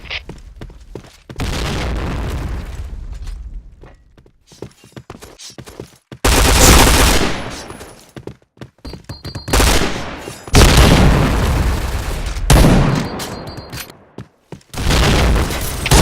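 Grenade explosions and gunfire from the Point Blank shooter game crash out in loud, dense bursts, with several long volleys of shots and booms separated by brief lulls.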